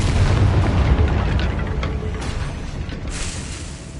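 A Confringo spell exploding in the Hogwarts Legacy video game, a heavy booming blast with a deep low rumble that slowly rolls away, with a brighter burst of debris near the end, no voices.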